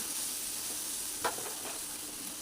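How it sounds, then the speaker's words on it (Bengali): Vegetables with drumstick stems sauté in a spice paste over a medium-low gas flame, with a steady low sizzle and one brief scrape of stirring near the middle. "গ্যাসের ফ্লেম মিডিয়াম টু লো ফ্লেমে রেখে আমি মশলাটা কষিয়ে নিচ্ছি"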